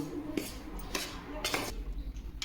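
Wheat flour and semolina being mixed in a bowl for shankarpali, a few quick metallic clinks and scrapes of a spoon against the bowl at irregular intervals.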